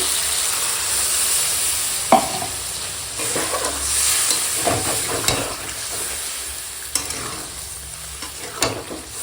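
Chicken with potatoes being sautéed dry in a pan, a loud steady sizzle broken by repeated spatula scrapes and knocks against the pan.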